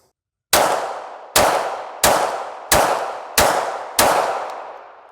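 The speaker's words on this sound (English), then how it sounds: "Watch how much recoil this little gun has." Six shots from a Bulgarian Makarov pistol in 9x18, direct blowback, crack out in quick succession, each a sharp loud report with a short ringing decay, evenly spaced and close.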